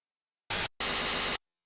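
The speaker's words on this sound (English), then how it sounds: "now it sounds like noise" Two bursts of harsh, static-like noise from a synthesizer using FM modulation with a sine-wave modulator, a short hit followed by a longer sustained one, each cutting off abruptly into silence.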